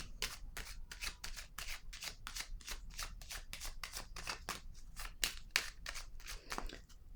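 Tarot cards being shuffled and drawn by hand, making a quick run of crisp, papery riffles and snaps close by, repeated in a steady rhythm against a quiet room.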